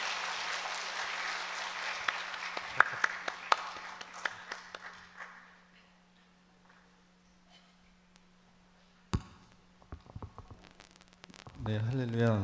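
Applause at a Korean church Friday night service welcoming a deacon to the front, a burst of crowd clapping that gradually fades out over a steady low hum, followed by scattered taps and handling noises.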